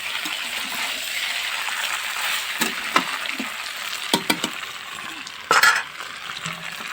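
Aloo gobi, a potato and cauliflower curry, sizzles steadily in a pan while a spoon stirs it, with several sharp metallic clinks of the utensil and a short burst of scraping near the end.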